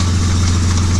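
A BMW E30 with an M52B28 engine idles steadily and close by, a loud, even low hum with faint rapid ticking knocks running through it.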